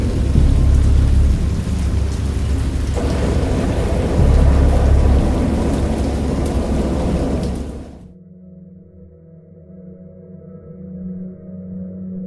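Heavy thunder rolls with pouring rain for several seconds, a deep, loud rumble over dense rainfall, then the storm cuts off abruptly and only a faint low drone remains.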